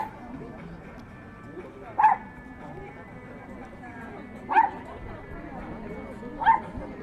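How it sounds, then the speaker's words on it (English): A dog gives three short, sharp barks spaced a couple of seconds apart, heard from some distance over steady background chatter and ambient noise at a Koshigaya waterfront and mall in Japan. "That is a dog."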